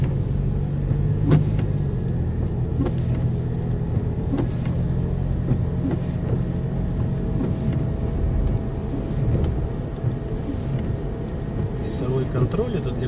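Car cruising on a highway in rain, heard from inside the cabin as a continuous low road rumble and engine drone with steady tire noise, close and constant throughout.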